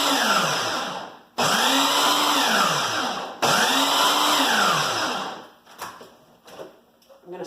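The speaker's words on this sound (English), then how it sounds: "we're going to pulse until, we don't want it to be a puree." A food processor pulses chickpeas in two loud motor bursts, each spinning up and winding down, followed by softer knocks and rattles as the bowl settles.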